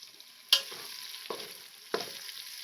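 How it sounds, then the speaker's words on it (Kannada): Onions frying in a pot for prawn biryani, a soft continuous sizzle with a few stirring scrapes and clinks, fairly quiet and close. "ನೋಡಿ ಫ್ರೆಂಡ್ಸ್, ಈರುಳ್ಳಿ ಎಲ್ಲ ಫ್ರೈ ಆಗಿದೆ"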